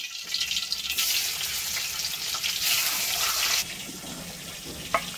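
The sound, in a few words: fish frying in hot oil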